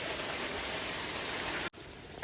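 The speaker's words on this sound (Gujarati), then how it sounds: "વરસાદ જુઓ ધોધમાર પાછો ચાલુ થઈ ગયો" Heavy rain pours down steadily in a downpour near the Ambika River during flooding, a dense, even hiss that cuts off abruptly near the end, followed by a quieter wet patter.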